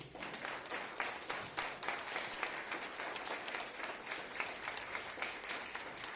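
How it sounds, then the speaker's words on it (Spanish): A church congregation applauds steadily throughout, a dense sustained wash of many hands clapping at a moderate distance, with no speech over it. "Dale ese aplauso al Rey."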